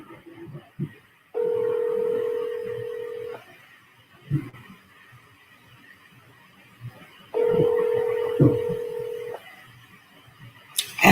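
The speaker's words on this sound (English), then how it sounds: "Can y'all hear this phone ringing?" Two long steady electronic tones, each a couple of seconds, with a quiet pause between, like a phone ringing over a speakerphone.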